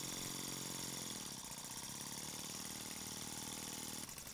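A StirlingKit RL-BL1K DIY steam engine ticks over slowly, giving a continuous rhythmic mechanical chuffing and clatter, steady and close.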